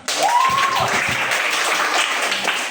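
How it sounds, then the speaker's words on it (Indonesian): Classmates clap in a classroom during a lesson on making tape, a steady burst of applause with a brief whistle or voice near the start. "silakan beri tepuk tangan"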